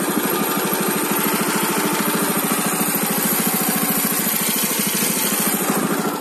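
A 196cc go-kart engine mounted on a bicycle runs steadily at idle, a loud, continuous rapid mechanical putter with a buzzy, rattling texture and no change in pace throughout.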